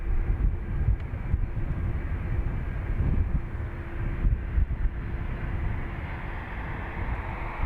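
Heavy jet aircraft at Dublin Airport, an Antonov An-124 cargo jet, rumbles steadily through takeoff, a broad continuous engine roar holding at a fairly even level throughout with no voices.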